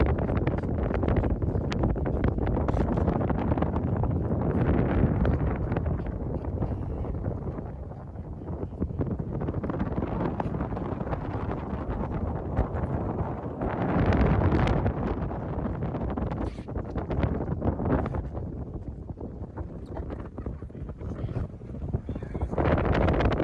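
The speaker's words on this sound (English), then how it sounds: "It was so windy up there." Strong wind buffets the microphone high on the mountain at the Langkawi Sky Bridge in Malaysia, a steady loud roar with gusts that swell and ease throughout, and no clear voices over it.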